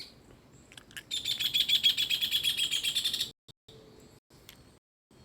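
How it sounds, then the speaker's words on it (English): Outdoors, a bird gives a rapid run of high, bright chirps for about two seconds, loud and close, then falls mostly quiet apart from a few brief, fainter notes. "The birds annoy me."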